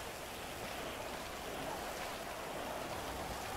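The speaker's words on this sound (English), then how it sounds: "I don't know because it's raining out here." Rain falls in the video game GTA 5, heard as a soft, even hiss that stays steady throughout with no voices.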